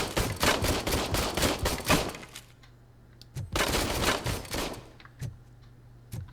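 Bursts of rapid gunfire in the video game RoboCop: Rogue City crackle loudly for two seconds, pause briefly, then fire again in another rapid volley with a few scattered single shots after.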